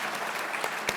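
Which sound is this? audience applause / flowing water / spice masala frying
audience applause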